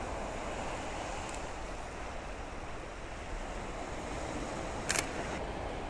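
A single-lens reflex camera shutter fires once near the end, a short crisp click over steady outdoor wind and surf-like background noise while taking a landscape photo with a lens at about 135 mm.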